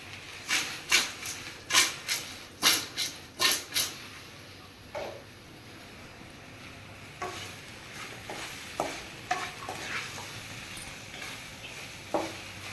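Okra fries in a pan and is stirred, starting with a rapid series of loud scraping strokes of the spatula, then settling into a soft sizzle with scattered lighter scrapes.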